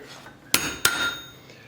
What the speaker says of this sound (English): A dog leg is pretty much one hammer blow there and one hammer blow there.